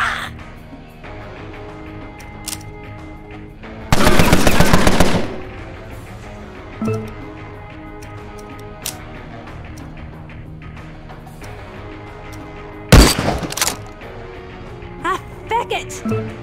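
Gunfire in the gangster strategy game Empire of Sin, with a loud sustained burst of shots and a later sharp volley, then scattered smaller reports over quieter game ambience and music.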